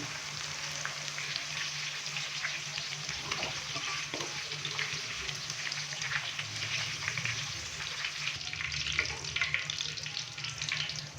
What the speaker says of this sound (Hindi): भिंडी को मीडियम फ्लेम पे 3 से 4 मिनट फ्राई करने के बाद अभी हम भिंडी को बाहर निकाल लेंगे।